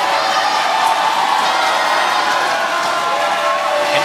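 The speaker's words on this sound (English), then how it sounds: "now we're really starting to hear it from the home crowd getting behind the Dragons." Home crowd at a 2013 ABL basketball game between the Westports Malaysia Dragons and Indonesia Warriors, cheering loudly and continuously with scattered whoops and high shouts rising over a steady roar in the arena.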